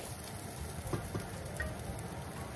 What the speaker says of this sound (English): As you can see, I saute the onion first. Now I'm going to add my garlic